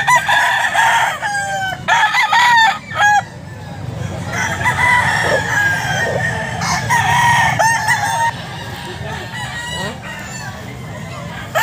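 Boston Roundhead roosters crow repeatedly at a busy chicken market in a grotto, several loud nearby crows overlapping with clucking and steady crowd murmur throughout.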